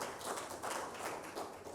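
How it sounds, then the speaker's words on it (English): An audience applauds at a community organisation's annual general meeting, a dense, steady patter of many hands clapping at moderate distance, with no voices over it. "Can we clap for them, please?"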